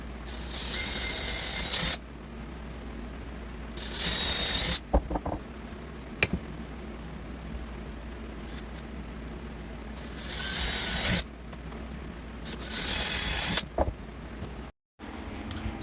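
A hand pump drill bores holes in wood, giving harsh, loud whirring bursts in several separate runs with short pauses between them and a steady background hum underneath.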